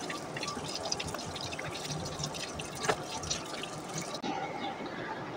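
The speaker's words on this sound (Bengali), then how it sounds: "আমি আমগুলাকে একটু ভালো করে ধুয়ে প্রসেসিং করে নিচ্ছি" Water runs and splashes steadily as mangoes are washed at a sink, a continuous wet patter with occasional drips and clinks, fairly close and with no clear speech.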